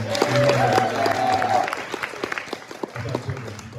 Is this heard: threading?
no